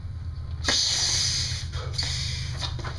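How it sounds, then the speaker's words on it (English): A 350 twisting balloon is inflated with a hand pump, a sharp airy hissing rush from close by, one long stroke followed by shorter bursts of air. "blow up your next balloon, your next 350."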